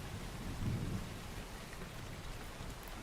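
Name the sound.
rain falling outside with thunder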